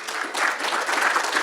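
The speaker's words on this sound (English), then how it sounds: "you should give yourselves a round of applause" An audience at a Labour for proportional representation political rally applauds, a full, steady burst of many hands clapping without talk.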